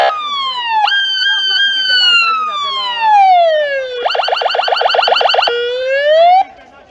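Romanian police car siren, loud and close, sweeping in long wails and then switching to a fast warbling yelp before returning to a wail, continuous throughout with no talk.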